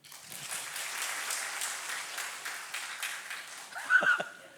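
Church congregation applauding after a bow during a Sunday worship service, a steady broad wash of clapping filling the room, with a brief louder swell near the end.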